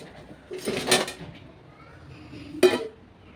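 Pots and dishes clatter in a kitchen while tea is being made: two short metallic clanks about two seconds apart, fairly close, over a quiet background.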